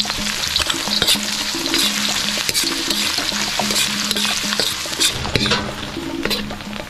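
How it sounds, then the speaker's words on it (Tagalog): Onion and garlic sauté in a hot pan before pork belly is added, giving a steady close sizzle of frying broken by repeated scraping and stirring clicks, with no talking. "Unahin muna natin sibuyas. Sunod na natin ang bawang."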